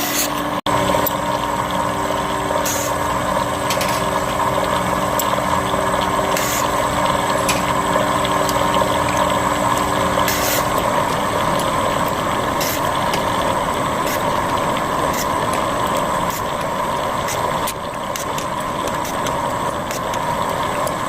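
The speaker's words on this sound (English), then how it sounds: "So here's my valve grinder. Turn that on." A valve grinder runs loudly and steadily while grinding the butts of engine valves from a 5.7 Hemi, a continuous mechanical whir and hum with occasional sharp clicks, the tone shifting slightly partway through, with no voices.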